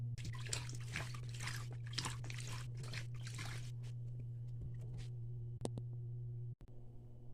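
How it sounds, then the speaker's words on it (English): A sweet potato washed under running water with foam, a steady faucet stream and soft splashing close by, ending in a few drips and a clunk, with no talking. "Wash it with foam to remove the dirts."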